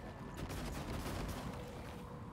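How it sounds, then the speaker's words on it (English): Glue cannon firing in the video game Prey, a dense, continuous spraying burst that runs steadily for a couple of seconds with no talk over it. "I'm guessing I have to use a glue cannon to stop it."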